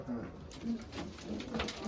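Pigeons cooing softly in repeated low coos at a moderate distance, with faint voices murmuring in the background.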